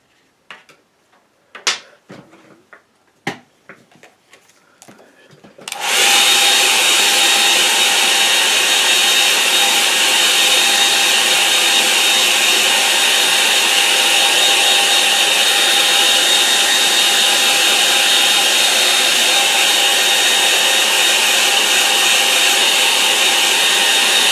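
A hair dryer starts up after a few light taps and then blows in a steady, loud, continuous whoosh close by, drying a watercolour painting of an autumn wetland scene.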